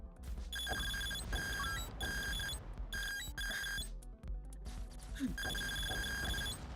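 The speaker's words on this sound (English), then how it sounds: "That sounds like a broken fucking phone alarm." A shrill electronic alert from a video game beeps in repeated bursts, like a harsh phone alarm, playing over a busy, noisy background.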